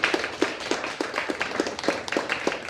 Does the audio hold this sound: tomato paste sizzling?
no